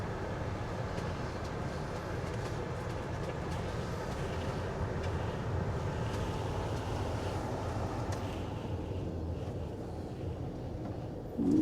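Steady roaring wind blows over a lake during a Wisconsin blizzard, a dense continuous rush that holds constant for the whole stretch with no voices, easing slightly near the end.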